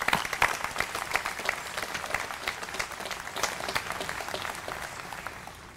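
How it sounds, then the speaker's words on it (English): A graduation ceremony audience applauds family members and friends, a crowd's brisk, crackling clapping holding steady for several seconds and tapering slightly at the end. "now they owe you a round of applause"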